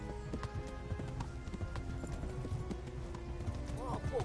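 Horse hooves canter in the medieval role-playing game Kingdom Come: Deliverance, a steady rhythmic clip-clop at moderate distance under game ambience, with a faint whinny near the end and someone talking over it.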